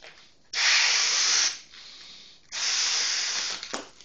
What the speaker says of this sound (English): we'll grab a couple of gray balloons. Okay? And we'll blow those up